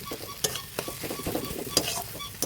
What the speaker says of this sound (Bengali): এবার এটা দিয়ে এর সঙ্গে ভালো করে মিশিয়ে নিয়ে আরও একবার ভালো করে কষিয়ে নেবো